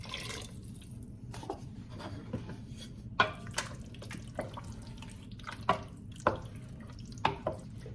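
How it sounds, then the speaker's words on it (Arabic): Water poured into a cooking pot while a lasagna dish with peas is prepared, heard as quiet trickling and dripping with scattered light clinks and splashes against a low background hum. "هلا رح احط شويه مي هون وخضهم وحطهم فوقهم"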